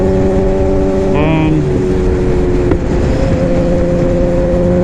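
A Suzuki GSX-R 750 sport bike's engine drones at a steady pitch from the rider's position, with a brief rising whine as the throttle opens, accompanied by constant wind rush.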